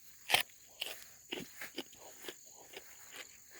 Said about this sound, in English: Crunch one right now.